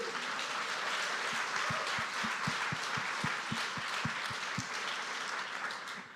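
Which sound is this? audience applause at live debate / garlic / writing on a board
audience applause at live debate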